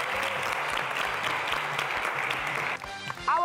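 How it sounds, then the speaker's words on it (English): Dense studio audience applause on the Family Feud Nigeria game show, a loud continuous wash of many hands that suddenly breaks off near the end, giving way to brief music and noise. "Applause for my Momo PSB family."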